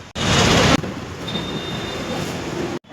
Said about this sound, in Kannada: ಮೆಟ್ರೋ ಹೋಗ್ತಾ ಇದೆ